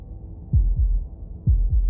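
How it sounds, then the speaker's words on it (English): Heartbeat sound effect in the video game Slay the Princess: two pairs of deep, loud, booming thumps in a lub-dub rhythm, heard alone against a low dark rumble. "That was the sound of a heartbeat,"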